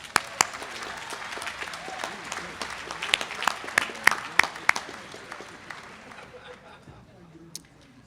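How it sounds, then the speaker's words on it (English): Applause from a commencement audience at a law school graduation, with sharp scattered claps over a softer crowd wash that thins and fades near the end. "Please join me in giving them a round of applause"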